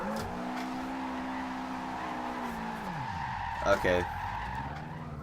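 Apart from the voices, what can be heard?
Subaru WRX STI drifting, tires skidding, Forza Horizon 2 video game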